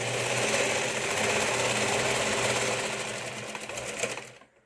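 A sewing machine stitches a seam on a katori blouse, running loud and steady for about four seconds before stopping abruptly.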